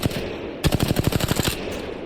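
Automatic weapon fire in the Apex Legends Season 9 firing range, one loud burst of rapid, evenly spaced close shots lasting about a second.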